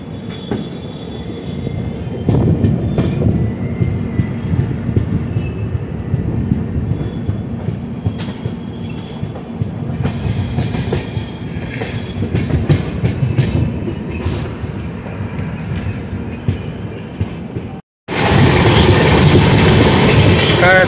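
Train 18520 from LTT to Pithapur rolls along with continuous heavy rumble, rhythmic clickety-clack and occasional wheel squeals, heard from on board, ending in a brief gap and a louder burst.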